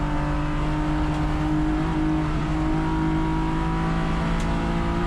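A race car at Sonoma Raceway powers through the S's in a USTCC touring car race, its engine droning steadily and loudly from on board with gear whine and no break or talk.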